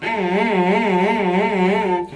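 A sustained bowed cello note with a wide, slow vibrato wavering steadily in pitch, played alone and at even loudness for about two seconds.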